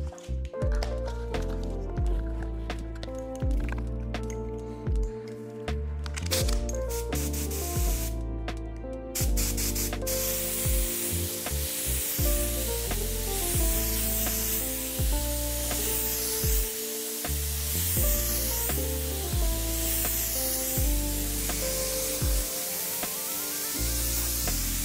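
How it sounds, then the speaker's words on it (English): Spray gun laying candy colors over a chrome finish on a carbon bike frame, a steady hissing spray that runs for the whole stretch under background music. "spraying candy colors over the chrome finish"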